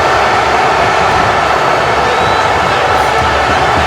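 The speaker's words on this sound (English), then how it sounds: "He can hear this capacity crowd in Honolulu going nuts for Shane Carter" A capacity crowd at a Honolulu wrestling event roars without a break, a dense, loud wash of cheering that fills the space at a steady level.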